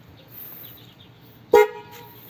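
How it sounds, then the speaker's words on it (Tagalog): An ebike's dual horn gives one short, loud honk after a quiet stretch of faint background noise. The toot is brief and close, with a bright tone. "Tapos dual horn"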